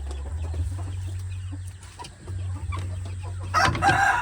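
Rhode Island chickens on a farm, clucking and crowing close by, with a low steady hum beneath and a louder burst of cackling near the end.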